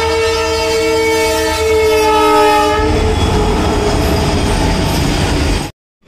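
A train near Bilaspur, Chhattisgarh, rushes past at high speed, very loud and close, with a sustained blaring horn giving way to roaring wheel and carriage clatter before the sound cuts off abruptly.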